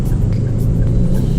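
A car drives past with a steady, loud low rumble, no voices present.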